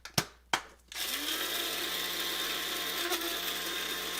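A coffee grinder grinds beans to a coarse setting, starting with two short clicks before a steady, loud whirring roar that runs without a break.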